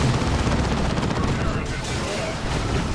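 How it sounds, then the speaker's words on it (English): Lascannon fire from a Devastator squad in the Dawn of War 2 video game, a dense, continuous barrage of loud blasts and booming impacts that holds steady for the whole stretch with no pause. "Getting some good hits there with the las cannon."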